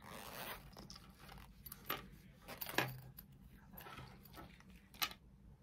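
A mint-coloured zip on a small Pusheen pouch rasps open or shut in a few short, quiet pulls spread across a hushed room, with no one talking.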